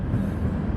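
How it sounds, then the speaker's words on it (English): A train pulling into a station, a low continuous rumble of railcars rolling in, close and steady with no voices for a brief moment. "Sorry the train pulling in."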